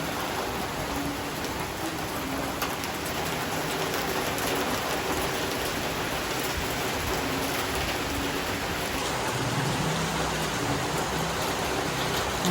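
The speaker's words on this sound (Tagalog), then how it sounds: "Dahil po kalakas ng ulan" Heavy, steady rain pours down continuously, a dense hiss of drops hitting surfaces with no voices, close and enveloping throughout.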